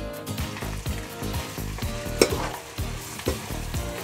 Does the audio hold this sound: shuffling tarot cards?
no